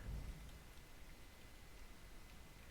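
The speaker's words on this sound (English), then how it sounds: "That lightning breath almost did me in." A lightning breath attack in a video game, with the Truthful One storm boss in the Fall of Truth raid, gives a steady crackling, rain-like electrical roar, heaviest in a deep rumbling burst at the start, then sustained and even throughout.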